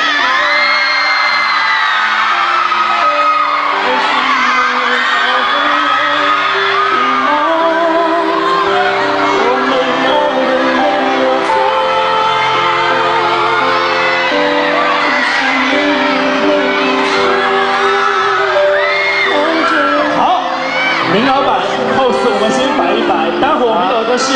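A large crowd of fans at a singer's 30th birthday party in Shanghai's Xintiandi screams, whoops and cheers continuously, loud and dense throughout, with shrill voices rising above the roar.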